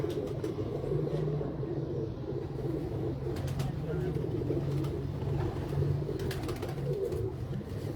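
Pigeons coo softly in a steady low murmur at a rooftop loft, continuous throughout with faint background rumble and occasional clicks and rustles.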